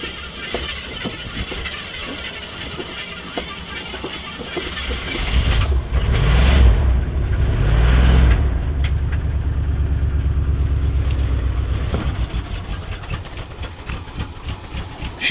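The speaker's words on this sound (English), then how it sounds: "Right now I was kind of thinking I should get this engine started." A Jeep J10 engine cranks and catches, surging to a loud, low rumbling rev for a few seconds before settling into an uneven idle with a ticking, rattly rhythm, heard close up.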